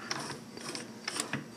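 A domestic sewing machine forming lock stitches, giving a few quick mechanical clicks and ratcheting ticks in short bursts, close and fairly quiet.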